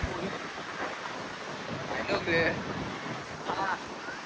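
Waves and wind at Tarkarli beach in the Konkan, a soft steady wash of surf with wind noise on the microphone and brief bird-like chirps and voices in the distance.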